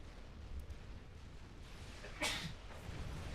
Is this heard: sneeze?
yes